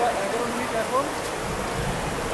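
Rain falls outside Puri railway station as a steady, even wash of hiss and patter, with a voice talking faintly in the background.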